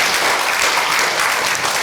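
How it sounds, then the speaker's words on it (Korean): Steady, dense applause from a forum audience fills the space evenly from start to finish, with no voices on top. "여러분들이 좀 큰 박수 한번 쳐주신다면"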